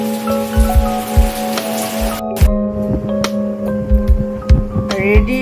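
Rain patters loudly on a surface, with irregular thuddy drips and a humming tonal drone running underneath, close and fairly loud with no voices.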